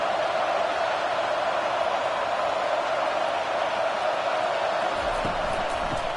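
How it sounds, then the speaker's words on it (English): A steady, loud stadium crowd roar from a PS5 American football video game fills a near goal-line stand, forming an unbroken wash of cheering noise with faint thumps near the end. "the crowd really making some noise now, trying to help out this defense"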